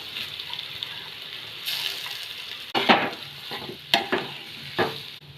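Boiled potatoes with turmeric and curry leaves are stirred in a pan, giving a steady low sizzle with several distinct scraping strokes in the second half, close and with no voices.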